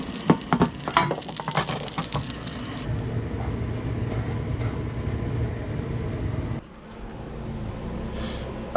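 Curry sizzling and being stirred in a pan inside an RV at a free campsite, with bright clattering utensil hits at first, then a steady close frying hiss.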